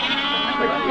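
A lamb bleats once at a goat market, a close, loud, wavering cry lasting the full second.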